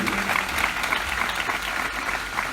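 A congregation at an Odia Christian sermon claps together in a sustained, even burst of applause, fairly loud and continuous, with a faint murmur of voices behind it.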